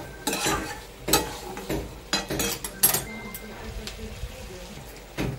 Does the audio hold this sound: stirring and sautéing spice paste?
yes